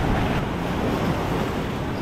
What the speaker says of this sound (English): these waves are pretty decently sized